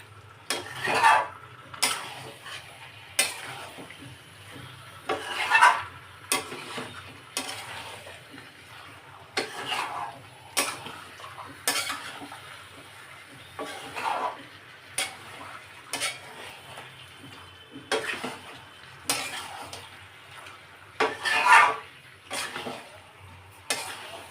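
Chicken being kosha-style stir-fried in a pan for a gravy dish, with a spatula scraping and turning it in steady strokes about every two seconds over a faint sizzle, close up and without talk.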